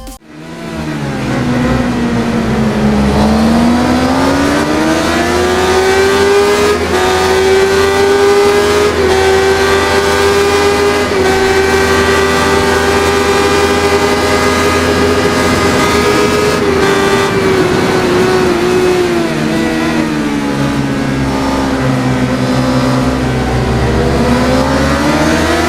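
A 2000 Suzuki GSX-R 600 sport motorcycle in a racing game holds a loud, sustained high-revving inline-four wail. It climbs and settles in pitch through the gears and runs steadily for the whole stretch with no talk over it.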